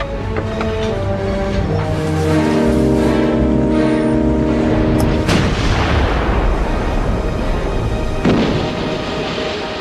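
British naval guns fire at long range in a First World War sea battle, with deep booming blasts and rumbling reports rolling over a continuous low background, a sharp crack midway followed by a long decay.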